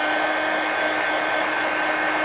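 A hair dryer blows steadily and loudly at close range, drying paint on the pages of a mixed media book, a constant even whoosh with no pauses.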